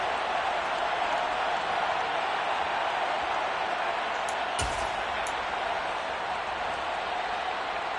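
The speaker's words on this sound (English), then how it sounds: "Plenty of shouts from this crowd as they watch the replay." A football stadium crowd in a video game roars in a steady, loud wash of shouting that fills the whole stretch, with a brief thud partway through and no pause in the noise.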